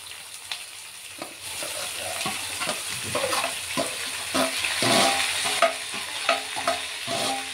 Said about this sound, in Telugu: కాకరకాయలు వేస్తున్నా అండి.